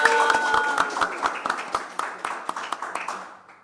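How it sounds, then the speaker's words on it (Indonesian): An audience claps at a talk with a doctor, the hands striking in a steady, fairly quick rhythm that starts dense and thins to a lighter, more distinct pattern before stopping, with a faint voice and tone in the background. "Tepuk tangan dong."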